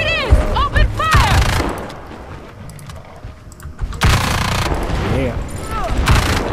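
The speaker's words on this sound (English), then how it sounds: "Open fire!" Rapid gunfire from the online shooter game Evolve during a monster hunt, with loud bursts of shots, whooshing effects and players talking over the action.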